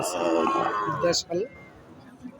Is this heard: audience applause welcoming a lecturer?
no